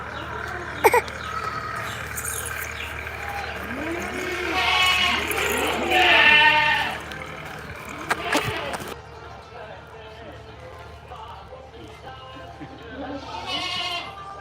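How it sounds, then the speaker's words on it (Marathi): Several goats bleat in a goat-farming shed while waiting for fodder, calls overlapping and rising in bursts around the middle and end, with a person talking over the ongoing farmyard noise. "सगळ्या शेळ्या ह्याच्यासाठी वेट आहेत वैरण"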